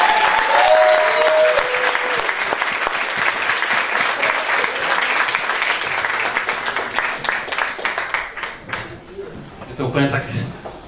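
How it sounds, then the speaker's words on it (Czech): An audience applauds at a Christmas church service after a Three Kings performance, sustained dense clapping that tapers off toward the end, with a voice over it early on. "Zatleskáme jim ještě jednou."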